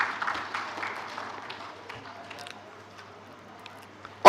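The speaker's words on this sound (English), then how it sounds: "So let's clap again for Mr." An audience at a lecture and fellows induction claps for Mr. Yemi Idowu, a loud burst of applause at first that thins into scattered faint claps before fading.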